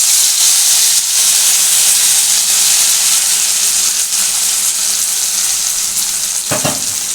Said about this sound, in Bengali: এবার আমি যেটা করবো দেখো এটা আমি তেলের মধ্যে ছাড়ছি